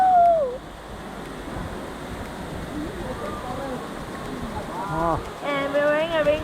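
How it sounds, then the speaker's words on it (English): Steady rushing roar of a huge waterfall in Indonesia, heard as a broad constant wash of water with voices talking and calling out over it. "Huge waterfall, the second largest in Indonesia,"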